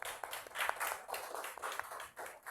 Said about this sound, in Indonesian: Kita beri aplaus dulu kepada kelompok 1.